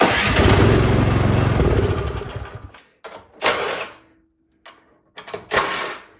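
A Cub Cadet snowblower's small engine cranks and fires on push-button start, roaring loud for about two seconds before cutting out, then several shorter sputtering bursts follow with silent gaps between.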